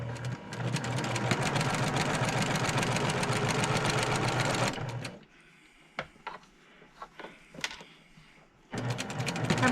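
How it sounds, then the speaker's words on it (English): Sewing machine stitching quilt pieces together, a steady loud mechanical whir running for several seconds, then stopping amid scattered handling clicks and rustles before the motor starts again. "All right, I'm ready to sew these."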